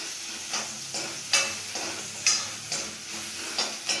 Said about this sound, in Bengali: আবার কাছে এসে পেঁয়াজ কুচিটা ভালো করে নেড়ে চিড়ে নিতে হবে।